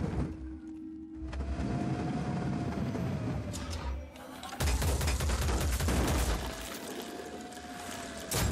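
Gunfire in the tactical game Phoenix Point rattles in dense bursts over a low rumbling background, with a heavier volley partway through, fairly loud.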